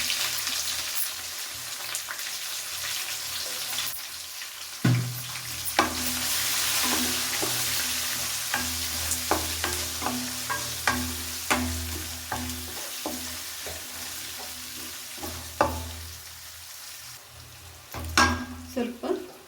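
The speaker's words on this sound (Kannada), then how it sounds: "ಇವಾಗ ನಾನು ಈರುಳ್ಳಿನ ಹಾಕ್ಕೊಳ್ತೀನಿ ಇದಕ್ಕೆ." Onions go into a pan of hot oil with cumin and break into a loud crackling sizzle, followed by steady frying with repeated spatula scrapes and taps against the pan.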